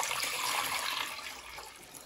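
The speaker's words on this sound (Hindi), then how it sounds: "अब इसमें मैं पानी ऐड करूँगी।" Water poured into a cooking pot on a stove, a steady close splashing rush that fades slightly toward the end.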